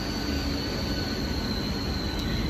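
A Mumbai local train heading toward Dadar runs on its rails, a loud, constant roar of wheels and carriage rumble with a steady high wheel squeal ringing above it, heard from inside a packed car.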